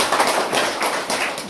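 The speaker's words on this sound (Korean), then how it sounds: "박수 더 크게 한번 칠까요?" An audience at a talk gives a short burst of brisk, loud hand clapping that is close and dense and fades slightly toward the end.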